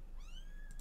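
A single cat in The Sims 4 meows once, a short rising-then-falling cry that stands alone over faint game background, followed by a couple of soft ticks.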